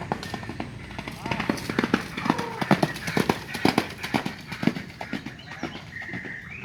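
Racehorses galloping on a training track in Sumedang, a quick, uneven run of hoofbeats thudding at moderate distance over outdoor background noise with birds chirping.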